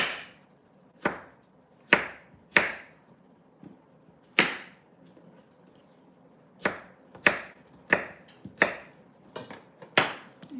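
Knife slicing through a peeled cucumber on a cutting board, about a dozen sharp, crisp chops in an uneven rhythm with short pauses between them, close and clear.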